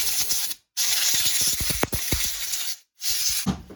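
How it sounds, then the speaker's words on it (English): Compressed air blasts hard from an air hose blow nozzle to dry out a trail camera, loud broadband hissing bursts broken by two short pauses, with faint ticks and rattles underneath. "blow it out with an air hose"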